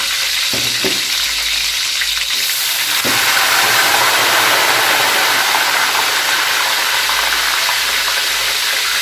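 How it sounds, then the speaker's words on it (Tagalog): Water hits pork frying in hot oil for lechon kawali and sets off a loud, sustained sizzle and hiss of steam, after a few short clatters at the start. "Buhos ng tubig."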